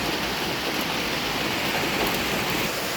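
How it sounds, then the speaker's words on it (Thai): Steady rain pours down outside a rural home in northeastern Thailand during a spell of wet weather, a dense, even hiss that stays loud and unbroken throughout with no voices. "ฝนตกอีกแล้ว"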